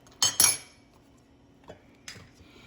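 A spoon stirring a dollop of butter into hot water cornbread batter: two quick metallic clinks against the bowl, followed by a couple of softer taps, close and clear.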